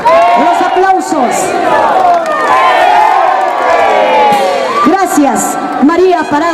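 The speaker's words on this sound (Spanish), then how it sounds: "Los aplausos." Crowd cheering, whooping and clapping at a school teachers' dance parade (pasacalle) in Peru, loud and continuous, with shouts and bright brass-like tones rising over it.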